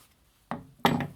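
A hand file scraping the burr off the edge of a freshly drilled hole, two short rasping strokes close up, the second louder and longer, with quiet pauses around them.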